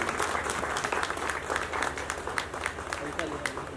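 Dense applause rolls on steadily at a song launch event, sharp claps massing into a loud, continuous wash for nearly four seconds with no gap.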